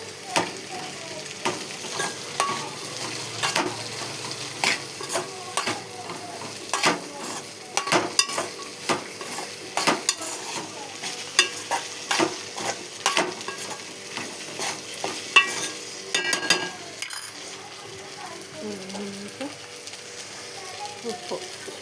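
Okra pieces fry in oil and are stirred repeatedly, with frequent scraping clatters of the spoon against the pan over a steady close sizzle.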